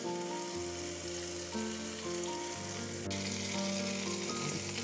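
Butter sizzles and crackles steadily in a hot pan for a butter garlic egg dish, a continuous close frying hiss with no voices.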